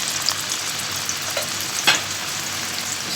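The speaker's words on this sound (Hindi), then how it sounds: "इस प्याज को बस मैं ब्राउन कर दूंगी जब तक मैं लहसुन और अदरक" Onions brown in a pan of hot oil for street-style breakfast cholay, giving a steady, close sizzle with a faint clink partway through.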